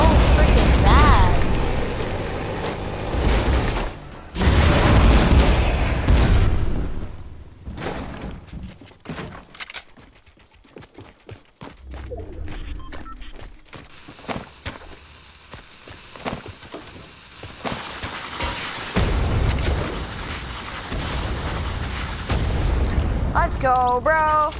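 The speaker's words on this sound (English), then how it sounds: "Oh, that's how you use dynamite." Dynamite explosions in a video game, loud booming bursts and rumbles arriving in bunches, mixed with other game sounds, with a person talking over parts of it.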